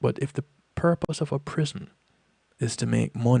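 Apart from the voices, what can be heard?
None of the usual background noises is heard.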